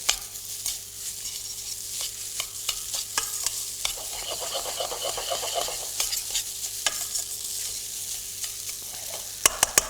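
Noodles are stirred in sesame oil over high heat in a pan, giving a steady sizzle broken by repeated sharp scraping and clacking stirs, close and fairly loud.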